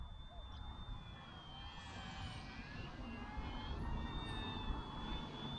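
An Eachine E120 RC helicopter hovers outdoors with a thin steady high rotor and motor whine that wavers slightly in pitch over faint wind noise.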